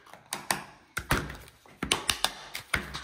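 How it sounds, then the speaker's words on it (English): Chisel tapping into a skin of cured turquoise resin on sycamore maple, a series of sharp close knocks in uneven bursts. "There's like a skin there if I put my chisel in."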